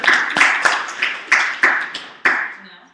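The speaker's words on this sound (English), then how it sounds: "Clap it up." An audience at Herbalife University clapping in a brief burst of loud, uneven claps close by, with a cheer at the start and the claps thinning out toward the end.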